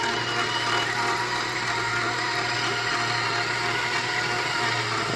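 Mini portable 5-liter washing machine running a wash, giving a steady, loud motor hum with churning water that continues without a break and has no voices over it.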